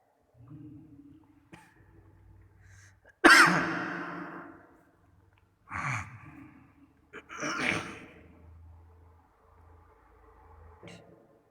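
A few scattered throat sounds, a short cough and throat-clearing bursts, with breathy gasps between them, close and without speech.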